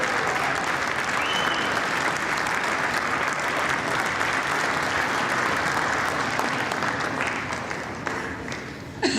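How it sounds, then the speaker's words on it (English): Sustained applause fills the House chamber for McCarthy, a dense, steady roar of many hands clapping that holds for about eight seconds before thinning slightly at the end. "So they all clap McCarthy."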